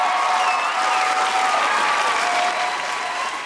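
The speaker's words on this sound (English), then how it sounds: "Give them a round of applause." Enthusiastic audience applause at a stand-up comedy show fills the room, loud and sustained clapping from a crowd that tapers slightly at the end.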